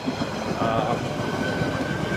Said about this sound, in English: Gotta wait for that train to pass.